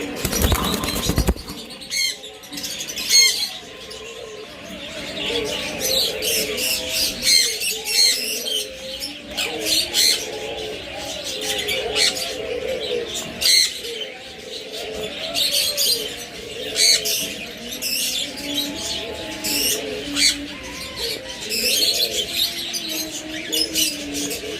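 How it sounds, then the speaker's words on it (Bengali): Doves coo repeatedly alongside chirping birds and occasional wing flaps, a dense aviary chorus with steady overlapping calls throughout, no voices. "আমাদের কাছে হিউজ পরিমাণ ঘুঘু পাখি পাবেন"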